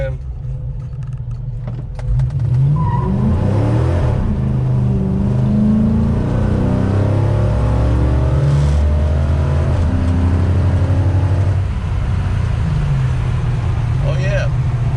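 A 1968 car with a 5.7 Hemi engine accelerates hard, its loud rumbling exhaust climbing in pitch and dropping through gear shifts, with a person talking over the engine noise.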